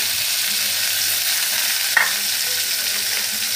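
Diced potatoes sizzle in hot oil with tempering spices, a steady close hiss with a single sharp click midway and no voices.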